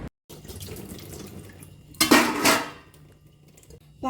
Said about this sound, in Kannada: ಫಸ್ಟು ಫುಲ್ಲು ಪಾತ್ರೆ ತೊಳಿತೇನೆ, ಕ್ಲೀನ್ ಮಾಡಿ ಅದಾದಮೇಲೆ ಸೋಪಲ್ಲಿ ಹಾಕಿ ಇನ್ನೊಮ್ಮೆ ಸೋಪ್ ಹಾಕಿ ಕ್ಲೀನಾಗಿ ತೊಳೆಯೋದು.